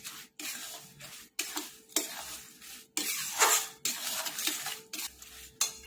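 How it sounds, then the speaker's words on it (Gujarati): Sugar syrup is stirred into a thick adadiya pak mixture in a pan, giving repeated scraping, sticky stirring strokes in an uneven rhythm, close and fairly quiet, with no talking. "આ ચાસણીને પહેલાં થોડીક એડ કરી દઈશું આપણે આ રીતે હવે મિક્સ કરી લઈશું આ રીતે"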